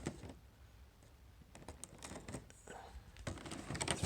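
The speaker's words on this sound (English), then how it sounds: "Get that tape off." Packing tape peeled off the packaging of an EazyRC Arizona RC crawler, a series of close crackling, ripping strips that grow louder toward the end, with brief murmured talk in between.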